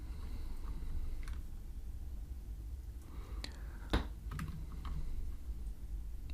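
Steady typing of code on a computer keyboard, soft close clicks running continuously over a low room hum, with one sharper key strike partway through.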